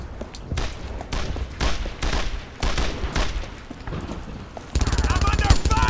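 Heavy gunfire in the Brothers in Arms: Earned in Blood World War II video game, with dense bursts of rifle and machine gun shots, loud thuds and blasts filling the mix throughout.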